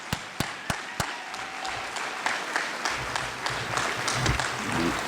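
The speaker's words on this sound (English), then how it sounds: "Let's give my main man, Robert Jackson, a round of applause." An audience claps for a guest at a live Sunday evening talk event, with sharp isolated claps up front that thicken into sustained steady applause, heard close and without talk over it.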